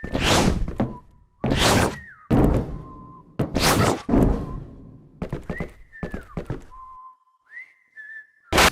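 Melodic whistling from the video game Sludge Life comes in short rising and falling phrases between bursts of loud thumps and noisy knocks, clear and fairly close with gaps of silence.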